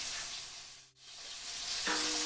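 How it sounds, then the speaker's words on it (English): Thin slices of ahi tuna frying in a hot pan, a steady close sizzle and hiss that briefly dips almost to silence, then swells again and brightens as more oil spatters. "we'll let that fry for a few minutes"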